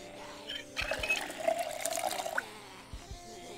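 Water is poured into a container in the Project Zomboid video game, a short splashing, trickling burst of about two seconds over quiet background hum.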